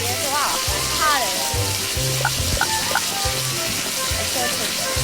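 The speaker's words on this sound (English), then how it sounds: "So it's sizzling real under it." Steady sizzling hiss under a hot plate in a video game, continuous and fairly loud, with short low thumps and brief chirpy tones layered over it.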